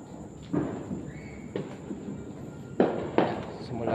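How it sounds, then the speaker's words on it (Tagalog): Firecrackers set off near a cemetery to drive away evil spirits, a few sharp loud bangs spaced seconds apart, with a pair of close blasts toward the end over a quiet background hiss. "Kasi yung mga paputok ngayon, yung tawag nito yung paputok, yung nagpapalis doon ng mga masasamang espiritu."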